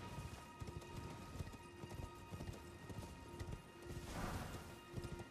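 Horse hooves from the Elden Ring video game clip-clop in a steady, quick gallop, moderately close but fairly faint, with a brief louder swell of rustling near the end.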